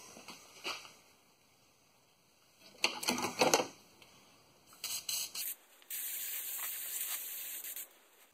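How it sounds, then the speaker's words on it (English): Fluid Film rust inhibitor sprayed onto the underside of a 2004 Pontiac Grand Prix during a rear brake line job, heard as short hissing bursts followed by a steady, close spray lasting about two seconds. "Anywhere where I think something might rust out, I want to spray this on there."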